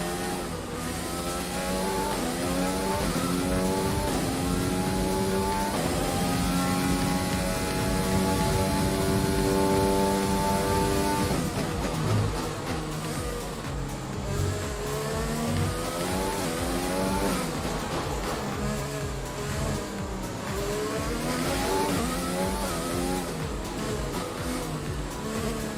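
A video-game race car engine roars and revs continuously, pitch climbing and dropping through gear shifts, loud and close for the whole stretch with no talking.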